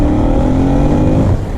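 A Suzuki V-Strom 1000 motorcycle from 2002 revs hard from around 4000 rpm up to its rev limiter, a loud, close, sustained engine roar with steady harmonics that holds, then drops slightly near the end.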